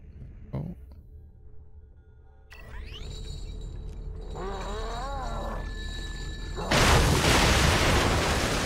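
A detonated bolt explodes in The Evil Within with a sudden loud, broad burst after a stretch of tones and a growling creature sound, then continuing roaring noise.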